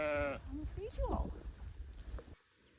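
A sheep that has recently lambed bleats loudly at close range in a series of wavering calls on a farm, ending abruptly in near silence.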